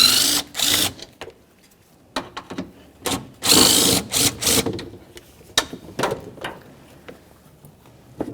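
Ratchet or power driver backing out 10mm bolts on a Chevrolet Silverado 1500 fan shroud, close rapid clicking and whirring bursts in short irregular spurts with pauses between, no talk.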